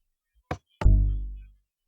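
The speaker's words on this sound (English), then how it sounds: "So this is a string bass" A Minecraft note block sounding its string bass voice: a quick soft click, then a single deep plucked bass note that rings out and fades over about three-quarters of a second, clear and alone.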